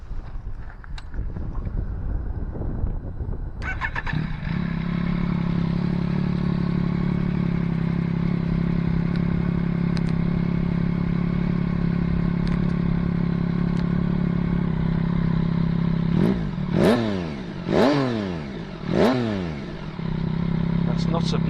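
A Yamaha MT-09 motorcycle with an updated exhaust starts up and idles with a steady, loud burble, then revs sharply three times near the end, with wind buffeting the microphone.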